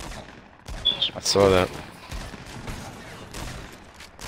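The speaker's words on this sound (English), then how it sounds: "I'm in a gunfight with them right now." Gunfire in a Fortnite battle royale gunfight, a short burst of loud shots near the middle, with a voice talking briefly and game sounds continuing around it.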